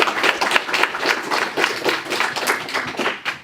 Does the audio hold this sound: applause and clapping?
yes